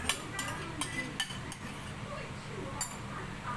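Spoon clinking against a pot while stirring menudo with tomato sauce, a series of sharp metallic taps at uneven intervals over a soft simmering background, no speech.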